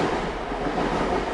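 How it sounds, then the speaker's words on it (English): A train rolls past on a nearby railway, a steady close rumble of wheels and carriages that fills the brief moment with no voices over it. "There's a railway nearby, so you hear trains going past."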